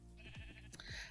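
Sheep in the Minecraft video game bleat twice in quick succession, a short wavering baa repeated, close and faint with no voices over it.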